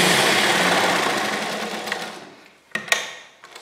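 Sewing machine stitching lehenga fabric, a steady close whirring run that slows and fades over a few seconds, followed by a couple of sharp mechanical clacks.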